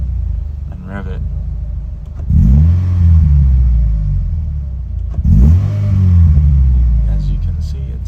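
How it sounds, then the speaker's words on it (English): A car engine idles with a low rumble, then two sharp full-throttle taps make it rev up and fall back, each rise and drop clear and close. "That's the same thing, one full throttle tap."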